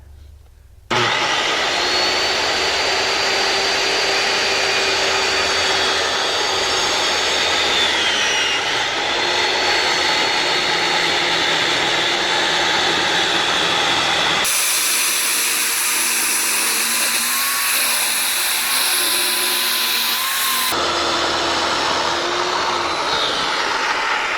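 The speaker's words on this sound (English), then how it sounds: "Just cut it just like you're cutting plywood, but using a masonry blade" A power saw with a masonry blade whines loudly and continuously as it cuts through cement board, the motor pitch shifting partway through, heard up close with no talking.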